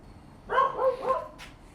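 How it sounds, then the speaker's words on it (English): A dog barks repeatedly in the background of a workshop, three or four quick, moderately loud barks in a short burst followed by a fainter yip. "Sir Barks-a-Lot is going at it"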